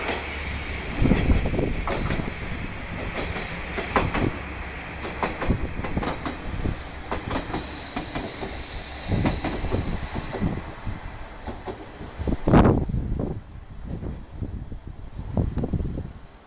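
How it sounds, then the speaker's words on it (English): A Japanese train passes an apartment, loud rumbling wheels and clickety-clack with a brief high squeal, swelling to a peak near the end before fading, with no voices. "Oh wait, here comes the train right now."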